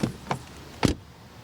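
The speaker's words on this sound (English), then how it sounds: "Other than that, door closing sound." A Mercedes EQC electric SUV door shuts, preceded by two lighter clicks or taps and then one solid, dull thud close to the microphone, followed by a quiet interior.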